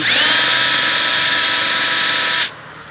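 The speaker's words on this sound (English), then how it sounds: "drill those bad boys out" A power drill whines loudly and steadily for a couple of seconds while drilling out bolts on a Ford Escort Mk1, then cuts off abruptly, leaving a faint hum.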